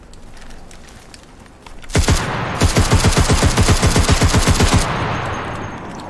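Sustained automatic gunfire in the shooter game CRSED: F.O.A.D., a loud, rapid burst of evenly spaced shots lasting about three seconds, starting abruptly and followed by a lingering rumble.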